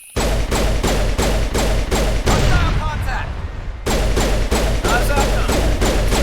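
Pistol fire in the video game Mass Effect comes as loud, close shots in a fast regular string, briefly pausing for a muffled stretch before resuming, with voices mixed underneath.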